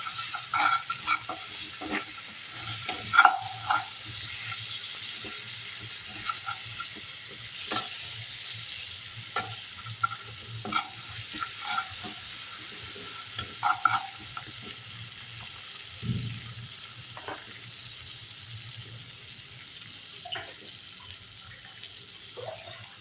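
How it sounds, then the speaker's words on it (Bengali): Salted masala fries in a pan for a doi dharosh (okra in yogurt) dish while a spoon stirs it, a soft steady sizzle underneath repeated light clinks and scrapes of the spoon against the metal. "এরপর আমি এটা একটু নেড়ে নিয়ে"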